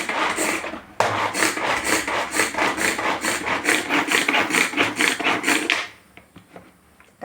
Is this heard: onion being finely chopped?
yes